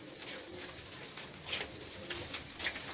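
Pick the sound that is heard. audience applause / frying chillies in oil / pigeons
pigeons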